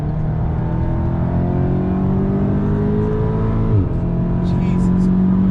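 A 550-horsepower Audi S3 engine revs under boost, a loud, steady drone with rising harmonics that briefly dips near the end and then climbs again, heard from inside the car with talk over it.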